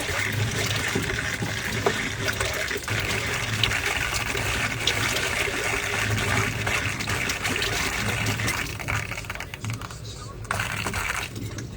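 Water drains steadily through an RV sewer hookup, a continuous rushing, gurgling wash that runs loud and close for the whole stretch, with faint clicks and knocks mixed in.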